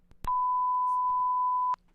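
A single sustained censor bleep on a live morning stream, a steady pure tone of about one and a half seconds that starts and stops abruptly, loud and alone against faint background.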